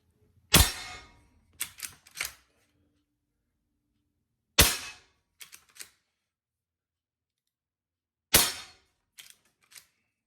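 Hatsan Vectis .22 PCP air rifle firing: three sharp, snappy shots several seconds apart, each followed by a couple of quick mechanical clicks, with near silence in between.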